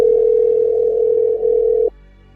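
A single steady telephone tone rings out loud and close while a call is placed, holding for about two seconds before cutting off abruptly.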